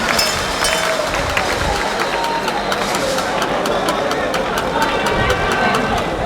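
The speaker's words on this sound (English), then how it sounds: "A round of applause for our speakers so far." Crowd applause at the launch of a political alliance, steady dense clapping with some cheering, moderately loud and continuous for several seconds.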